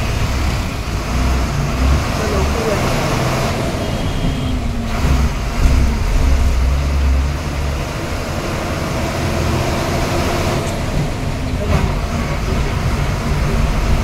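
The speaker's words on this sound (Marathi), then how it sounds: "ट्रॅफिक जाम आहे," Heavy traffic at the Mangaon bus stand near the railway station, where buses and cars sit jammed together. A loud, continuous low rumble of idling and creeping engines carries on with no talking.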